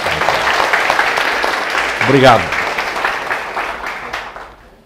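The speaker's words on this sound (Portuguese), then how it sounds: "Uma salva de palmas para ele" An audience at a spiritist talk gives a round of applause, moderately loud and sustained, while a speaker briefly talks over it before the clapping fades toward the end.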